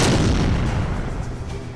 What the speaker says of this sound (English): Stun bomb to the face.